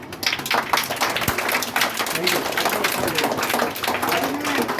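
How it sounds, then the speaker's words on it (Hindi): Audience clapping for a candidate, a busy, steady patter of many hands, moderately loud and continuous throughout. "इनके लिए तालियां।"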